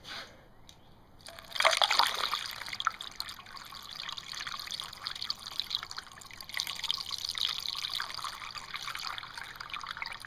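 Water is poured into the radiator of an old Buick, a close, continuous splashing and trickling flow that starts after a brief clunk and keeps a steady gurgle at moderate loudness.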